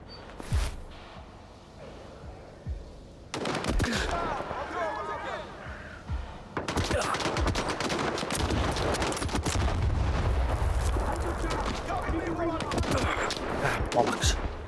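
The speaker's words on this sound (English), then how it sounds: "Might sound like there was gunfire coming from the roof next to us there." In the S.T.A.L.K.E.R. 2: Heart of Chornobyl video game, bursts of gunfire from a nearby rooftop crackle in sharp clusters, growing denser and louder through the second half.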